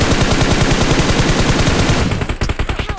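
An MG3 machine gun fires in a video game: a loud, rapid, even burst of close shots for about two seconds, then a few separate trailing shots as the firing stops.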